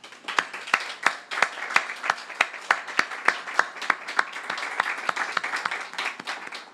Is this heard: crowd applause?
yes